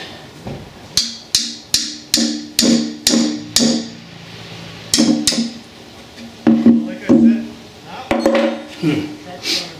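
A socket wrench works against a stuck exhaust bolt on an intake-exhaust assembly, giving a series of sharp metallic clicks and knocks in uneven bursts, loud and close.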